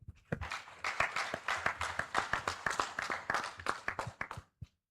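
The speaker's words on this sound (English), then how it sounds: "A round of applause for him again." An audience at an annual general meeting claps in steady applause for a few seconds, a dense patter of many hands that stops abruptly at the end.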